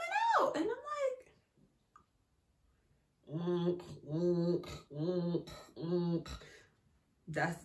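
A woman vocally imitates a breast pump with a row of four rhythmic, wheezing pulses, close and fairly loud, after a short stretch of her own excited voice.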